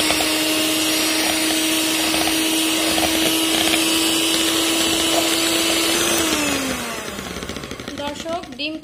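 A single egg whisked with an electric beater for a jaggery cake, a steady loud motor whine that holds for about six seconds, then slows and drops in pitch as the beater winds down.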